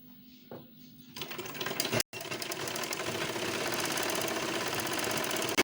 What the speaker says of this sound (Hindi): तो अब मैं इसके ऊपर सिलाई चला लूँगी, इस साइड से भी और गले पे भी।